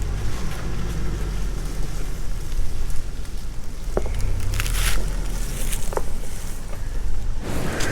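Wind whips across a viewpoint on a steep mountain trail in Georgia, a loud continuous rushing roar with gusty swells and a few brief clicks and rustles close by.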